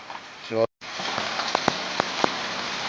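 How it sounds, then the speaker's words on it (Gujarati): Heavy rain pours down outside a shop in Chorwad, a steady hiss of water on surfaces punctuated by a few sharp drip taps; a brief voice and a short dropout come early. "રીમઝીમ જોરદાર વરસાદ આવી રહ્યો છે મિત્રો"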